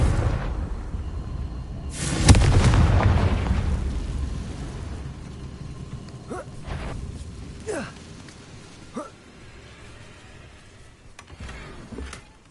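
Confringo fire spell blasting in Hogwarts Legacy: a loud burst with a broad rumbling roar that trails off over a few seconds, followed by scattered sharper magical cracks and whooshes.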